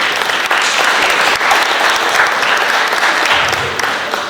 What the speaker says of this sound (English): So if y'all want to give a round of applause for Coach Ross, that would be great.